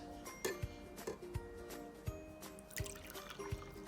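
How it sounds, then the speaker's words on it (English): Water is poured into a cup, giving faint trickling with light clinks and small knocks recurring roughly every second, quiet and close. "All right, Logan, you're gonna pour some right here in this cup, bud"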